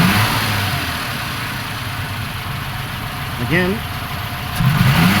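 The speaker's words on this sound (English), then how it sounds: "So now let's go to the snap, take our throttle cable," A 1995 Suzuki Escudo engine idles steadily, then rises in a quick rev as the throttle cable is snapped open, swelling louder toward the end; a voice speaks briefly over the running engine.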